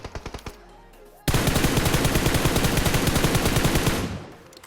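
Automatic gunfire in PUBG Mobile on the Livik map: a few spaced shots, then a long, loud, rapid burst that fades out near the end.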